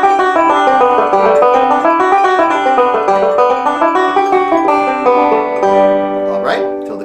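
Banjo played melodic style, running a circle drill exercise: a dense, continuous stream of bright plucked notes rolling through changing chords, close and steady for the whole stretch, with no voices.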